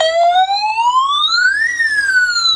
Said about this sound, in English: Musical and lighting police car.